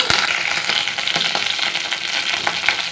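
Mustard seeds and cumin crackle and sizzle in hot oil in a pan for a bendakaya pulusu (ladies finger rasam), a loud, steady frying hiss with sharp popping spikes throughout.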